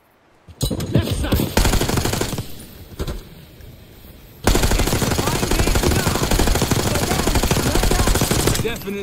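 A gun fires in Call of Duty: Black Ops 6, loud rapid automatic bursts starting after a quiet moment, then a sustained stream of close, heavy gunfire that runs almost to the end.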